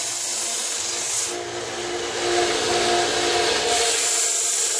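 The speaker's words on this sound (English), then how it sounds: "She's deburring it right now." Close, steady rubbing and scraping as a tool deburrs the back edge of a freshly sawn metal piece, continuous gritty friction with slight swells in intensity.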